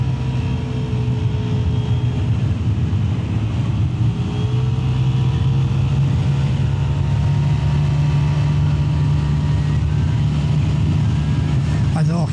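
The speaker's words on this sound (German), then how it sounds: "so jetzt nochmal auf den Stadtring mit der Vespa als direkter Vergleich" A Vespa GTS 125 scooter cruises along a city ring road, its engine holding a steady low drone with wind rush throughout, rising slightly in pitch midway, with no talk over it.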